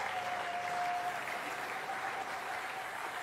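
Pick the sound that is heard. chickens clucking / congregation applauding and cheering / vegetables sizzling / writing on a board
congregation applauding and cheering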